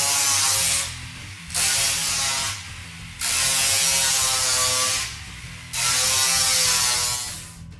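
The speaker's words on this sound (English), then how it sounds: "I'm going to sand this end up just a little bit at a time" A power sander works the cut end of a CBI T3 high clearance rear bumper in loud, rasping bursts of about a second or more, separated by short pauses.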